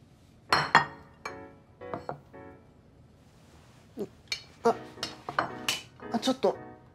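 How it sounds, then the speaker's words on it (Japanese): Hot pots and pans clank and clatter on a stove in short, irregular bursts, with a quiet pause between the clusters of metallic knocks. "ちょっと鍋熱くなってるから危ない"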